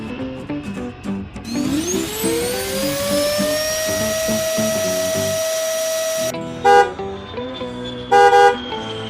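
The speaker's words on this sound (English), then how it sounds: "Airliner." A jet airliner's engines whine up steeply in pitch, then hold a loud, steady high tone for several seconds before cutting off. Brief tonal beeps follow.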